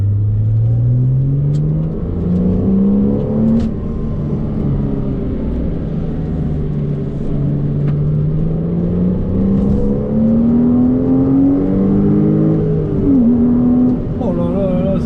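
A Porsche Cayman S engine revs hard up to about 7000 rpm, its pitch climbing, dipping and climbing again in a loud, sustained howl heard from outside the car, with someone speaking excitedly over it.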